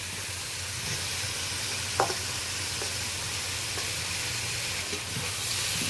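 Potatoes and pointed gourd fry in spices with a steady, soft sizzle, broken by a few light clinks of stirring.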